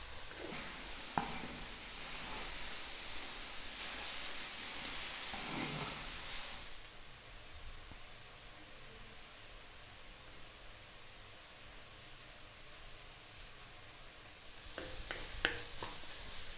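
Carrots and onions fry in a pan, giving a steady hiss and sizzle, louder in the first several seconds and then softer, with faint stirring clinks near the end.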